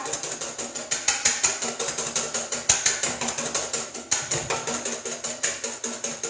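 Eggs beaten with sweetener in a bowl for a fluffy omelette, giving a fast, steady clicking and scraping rhythm that runs continuously and fairly close for several seconds with no talking.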